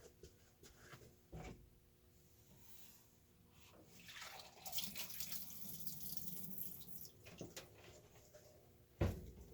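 Water drains through a colander lined with paper towel while coconut husk substrate is strained for a terrarium, a soft trickling and pouring with scattered knocks and handling clatter, no voices.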